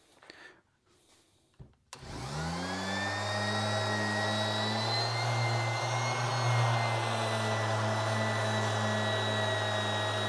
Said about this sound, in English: let's just sand the top end here that we haven't yet sanded